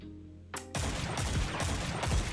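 Hand cannon fired from the hip in Destiny 2 booms in a rapid run of heavy shots, loud and close, each blast rolling into the next.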